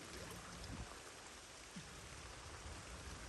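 Steady rain falls outdoors on a fishing trip, a dense continuous hiss with scattered close drop hits and no talking.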